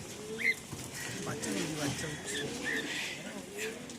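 A pigeon coos in soft, low repeated calls in a cage while someone talks over it, with some rustling nearby.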